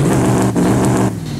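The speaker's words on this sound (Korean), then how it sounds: "일단 시동 한번 켜볼게요. 스타트." A Hummer H1 Alpha's engine runs with a steady, deep rumble close by. Its level dips briefly partway through, then settles a little quieter near the end.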